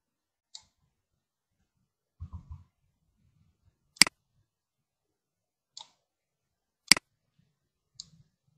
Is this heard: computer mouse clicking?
yes